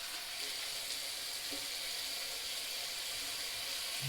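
Water runs steadily from a tap into a sink while a face is wetted before a shave with an Edwin Jagger DE89 razor, a soft, continuous hiss heard close by.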